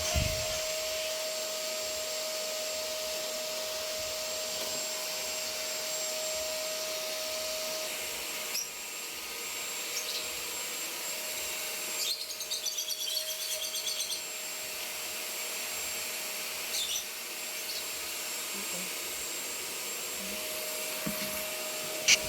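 A vacuum cleaner runs steadily for a long stretch, sucking up bird mess, birdseed and nesting debris around bird cages indoors, its whine changing slightly as the nozzle moves while birds chirp faintly in the background.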